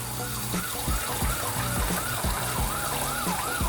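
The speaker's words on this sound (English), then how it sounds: "Ambulance is ruining the sound." An ambulance siren wails in a steady rising and falling pattern, loud and close, over a background of water running into an aquaponics tank and low rumbling noise.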